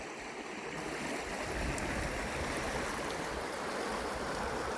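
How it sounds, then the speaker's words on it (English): The Yakima River runs at typical early-summer high flow in the Lower Farmlands, a steady, full rushing wash of water heard close and unbroken with no voices. "typical high flows on the Yakima River"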